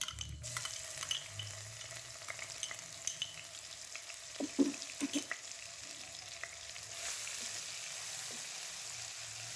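Green chili paste, whole red chilies and ginger garlic paste frying in hot oil for a cabbage sabzi, giving a steady low sizzle with some faint crackles and stirring sounds, and no talking.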